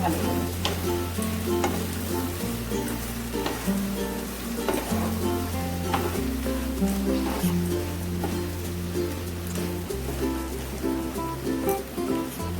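Chingri kochur loti, shrimp with taro stolons, frying in a pan with a steady sizzle and repeated stirring scrapes and knocks, continuous and close, with no talking.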